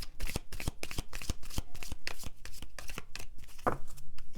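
Oracle cards are shuffled by hand, a rapid run of crisp riffling flicks and soft slaps repeating close to the microphone for several seconds.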